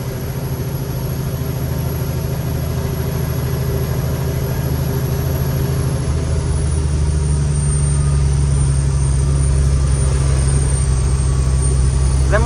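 A car engine runs loud and close, holding a steady low drone with a whining tone that shifts partway through as the gears change, with no talking.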